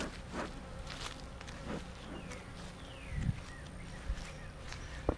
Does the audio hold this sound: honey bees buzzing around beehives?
yes